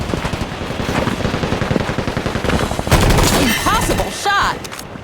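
Rapid automatic gunfire in the Combat Champions PC shooter game, loud and close, in fast repeating bursts with heavier blasts near the end, while a voice speaks over the shooting.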